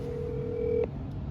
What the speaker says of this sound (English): Here's the footage of the phone calls between the captains and Matthew Zuppardi.